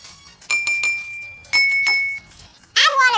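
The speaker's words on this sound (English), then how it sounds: "Use a spoon to tap each glass and compare the pitches." A spoon taps glasses of water several times, each strike giving a clear ringing tone that lingers, with a brief voice sound at the end.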